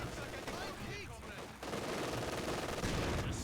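Machine guns, including an MG42, fire in dense rapid bursts during a World War II video game battle, a loud continuous rattle with grenade-like blasts mixed in and a voice talking over it.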